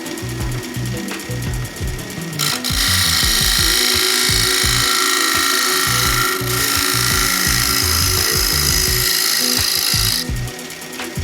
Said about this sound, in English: changing tools now to my scraper, round nose scraper